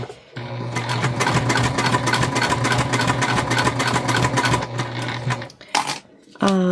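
Close and loud, a sewing machine back stitches through heavy interfacing on a bag, a steady rapid hum and needle clatter running for several seconds before stopping, followed by brief talk.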